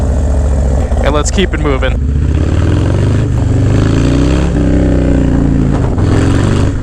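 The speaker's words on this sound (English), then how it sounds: "So let's start the bike" A motorcycle starts up on a New York City street, with a short burst of cranking followed by a steady engine drone as it moves off, partly under a voice.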